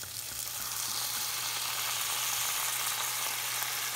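Tomato sauce with red wine cooking down in a pan, giving a steady, close sizzling simmer with a faint low hum underneath, continuous and unbroken with no talking.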